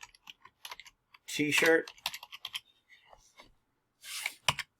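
Soft clicks of typing on a computer keyboard, scattered light keystrokes close by, partly under a brief spoken word.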